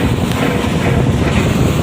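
Strong wind roars steadily against the microphone, a loud continuous rumble with no voices.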